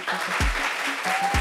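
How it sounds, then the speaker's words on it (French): A studio audience claps for a newly introduced guest on a French-language talk show, a steady wash of applause running through the whole moment with a couple of low thumps. "On applaudit pour lui."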